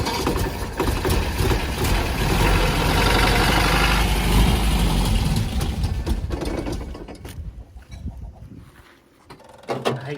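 A 1974 MG that sat parked for 30 years cranks and catches, its engine running loud and close with a steady mechanical churn for several seconds before dropping off and briefly stirring again.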